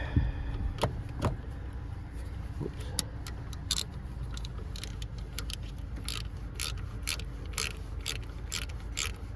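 A ratchet wrench turns a 10mm nut on the plastic alternator terminal of a 2006 Toyota Highlander 3.3L, giving a series of quiet, irregular metallic clicks close up.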